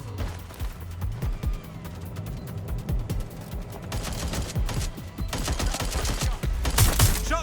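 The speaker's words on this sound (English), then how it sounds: "Shots fired! Shots fired!" Gunfire from the Watch Dogs Legion video game crackles in rapid, uneven bursts over several seconds. The shots grow denser and louder toward the end, with no talking.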